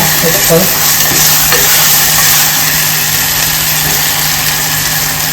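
Spices tempering in hot oil for a pressure-cooker chole (chickpea curry), a steady close sizzle and crackle with a low hum of a kitchen stove or fan running throughout and a few faint clinks of stirring.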